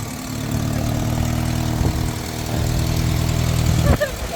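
A car engine with an exhaust leak idles steadily and close by, a low droning rumble running on with a few brief knocks and a short sharp tick near the end.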